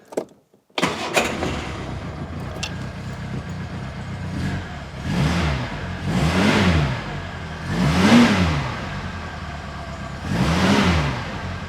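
A Reliant's engine cranks, catches and starts after a short click, then idles roughly and revs up and down four times in a slow rising-and-falling pattern, loud and close.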